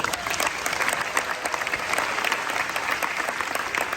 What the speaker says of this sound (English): So one more round of applause for all those folks.